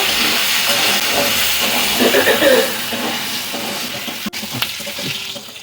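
Tamarind water poured into a hot pan of hilsa fish with taro and greens, giving a loud steady steamy hiss that swells briefly mid-way, then settles, with a sharp click near the end.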